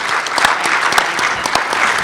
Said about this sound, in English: can we get a round of applause for Hillary, who has just moderated 3 panels?